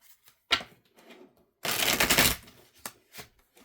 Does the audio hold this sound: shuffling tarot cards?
yes